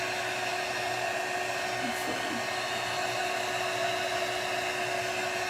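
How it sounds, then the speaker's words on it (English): A hair dryer runs steadily throughout, drying paint on a flower pot: a loud, constant close-up whoosh with a fixed motor whine and no change in pitch or level. "I'm just drying it so I can set it."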